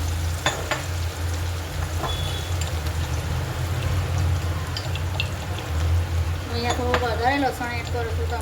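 Garlic, green chili and ginger paste sizzles steadily in a hot pan for a Gujarati kadhi, a continuous close frying hiss with occasional stirring clinks, and a voice speaks briefly near the end.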